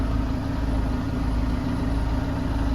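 A tractor engine runs steadily while pulling a 2.4-metre disc harrow through a weedy field after soybeans, a loud, even low drone heard from inside the cab with no speech.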